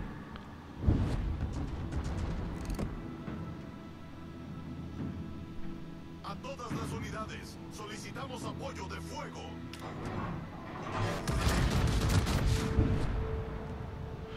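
Video game gunfire with heavy weapon shots and booming impacts bursts out in several clusters under someone talking, the loudest volley near the end.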